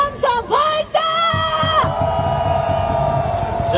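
Stadium crowd at a Korean Series baseball game roaring in unison, a loud sustained massed shout with whoops and yells, starting in short bursts and then settling into a continuous rumbling cheer.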